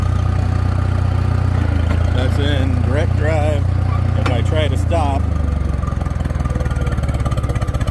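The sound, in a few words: Case tractor engine running, nearly stalling when stopping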